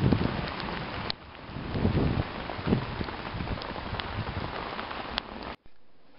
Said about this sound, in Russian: Дождь идет.